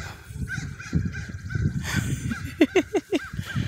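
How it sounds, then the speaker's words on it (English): A crow calls outdoors in a leafy neighborhood, giving a quick series of about five harsh, loud caws near the end over a low rumble of background noise. "Look at that crow."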